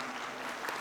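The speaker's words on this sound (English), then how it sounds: "Please give a big round of applause to all the panelists here." Audience at a startup event applauding panelists, a brief, dense burst of many hands clapping, loud and continuous throughout.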